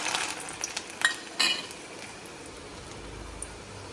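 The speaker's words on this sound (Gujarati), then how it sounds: "રાઈસ તેલ આવી ગયું છે એટલે એમાં લસણ નાખી દઈએ" Garlic dropped into hot rice bran oil gives a steady close sizzle, with a few sharp clinks of a utensil against the pan near the start and a quieter frying hiss continuing after.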